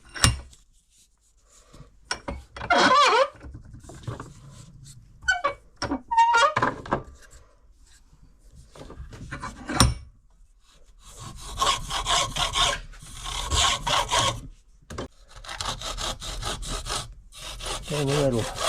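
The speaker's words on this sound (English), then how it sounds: "We'll try and cut the cork away now." Handsaw cutting away the cork grip of an old fly rod handle, irregular back-and-forth rasping strokes, close and loud, with pauses between bursts and longer steady sawing toward the end.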